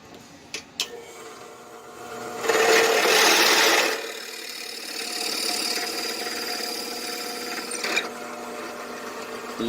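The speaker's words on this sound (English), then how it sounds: "I'm going to drill that hole. And I have the drill press set up here." A drill press motor whirs steadily while a bit grinds into material, rising to a louder, rougher cutting burst before settling back to a hum.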